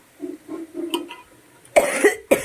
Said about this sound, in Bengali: বাবা কাশির জ্বালায় হদ্দ হয়ে গেলাম